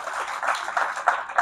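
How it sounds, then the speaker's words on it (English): Renewed applause from the crowd at a student association swearing-in and awards night, a continuous patter of many people clapping at moderate level, a few louder claps standing out. "And let's clap for them again."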